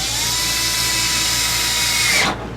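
A power tool fitted with a socket drives screws into a radio-controlled car, an Arrma Limitless 3s converted from a Vendetta 3s, giving a steady close whirring drone that holds for about two seconds and then cuts off abruptly.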